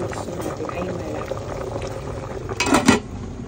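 A pork leg (pata) simmers in boiling liquid, giving a steady bubbling hiss, with a brief clatter of a utensil or pot near the end.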